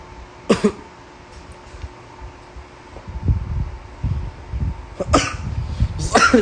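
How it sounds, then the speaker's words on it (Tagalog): A person coughs close by, one short burst early on and two more near the end, with rustling and faint background noise between. "Inuubo pa rin ako."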